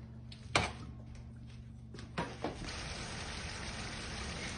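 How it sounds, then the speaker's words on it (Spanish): A little water poured into a cooking pot, soft trickling and a few small splashes and knocks, faint and close, with no talking. "Le vamos a echar poquita agua."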